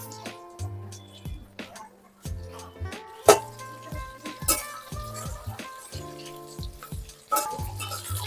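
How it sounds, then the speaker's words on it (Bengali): Marinated chicken pieces fry in hot oil in a wok for a chilli chicken dish, a steady sizzle broken by repeated clinks and scrapes of a utensil stirring against the pan, close and fairly loud with no talking. "বাদ বাকি চিকেনগুলো আমি তেলে ভেজে নেব।"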